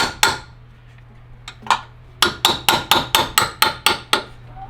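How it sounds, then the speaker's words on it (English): Hammer blows striking a chisel on a Ferrari 360 transmission mount: a few scattered metallic strikes, then a steady run of about nine sharp, ringing hits close by. "Let me get an actual chisel. Hammer. Hammer time. You can hammer a Ferrari."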